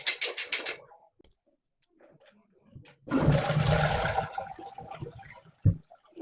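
A toilet with a newly replaced fill valve flushes with a loud rushing surge of water lasting about two seconds, preceded by a few clicks and handle sounds, then quieter trickling.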